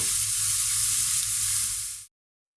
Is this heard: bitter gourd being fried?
yes